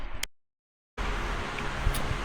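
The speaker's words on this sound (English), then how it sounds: "Okay, you'll have to excuse the wind noise from the old fan," An old electric fan running on a hot day in a home garage, giving a steady broadband whooshing rush, briefly cut to silence near the start and then resuming continuously.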